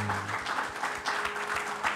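Church congregation applauding during a Spanish-language Sunday morning service, a steady wash of clapping across the whole moment with a faint low hum underneath.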